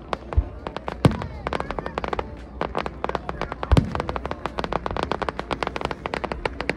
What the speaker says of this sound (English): look at the colors, look at the fireworks